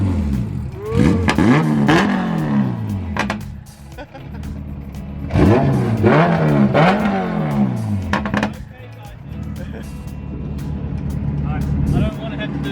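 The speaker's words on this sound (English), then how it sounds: "It revs up real quick." A Honda F20C engine with a turbo in a drift car with a sequential gearbox and quick-change differential, revved sharply in repeated quick bursts that rise and fall, loud and close, with people talking over it.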